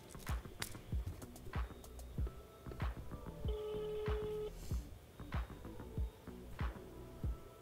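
A phone rings out on a call to a fan: a faint single ringback tone sounds once in the middle, with soft intermittent clicks and taps around it. Nobody speaks.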